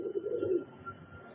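Madrasi and Giribaj pigeons cooing, a single low throaty coo lasting about half a second, close and moderately loud, followed by quiet.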